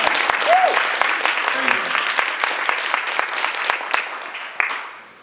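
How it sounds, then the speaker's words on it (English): Sustained audience applause at a university lecture event, a steady crowd clapping texture throughout that swells, then tapers off at the end. "I was waiting for applause"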